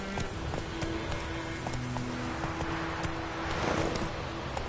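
Horse hooves clip-clopping at a steady riding pace in a PS4 video game, a regular rhythm of close, distinct hoof strikes over a faint background hum.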